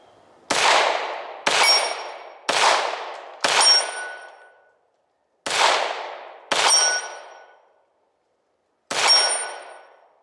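Seven sharp shots from a Ruger PC Charger 9mm pistol crack outdoors in an irregular sequence, several followed by a bright metallic ring as a small hanging steel plate is struck, each blast loud and decaying before the next.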